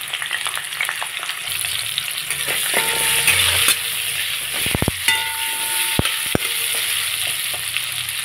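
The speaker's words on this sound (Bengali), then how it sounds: "একটু নুন হলুদ দিয়ে আমি গাজরের টুকরোগুলো একটু ভেজে নেব" Carrot pieces frying in oil with salt and turmeric, a steady close sizzle with occasional sharp utensil taps and clinks against the pan as they are stirred, no voices.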